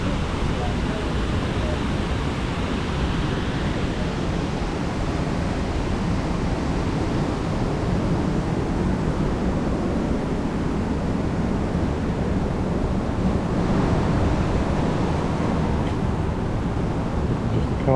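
River water rushes steadily over the horseshoe weir at Belper River Gardens, its gates jammed open by debris, making a loud, continuous broadband roar that never lets up and carries no talk over it.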